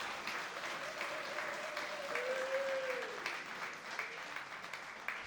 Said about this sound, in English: Applause him again,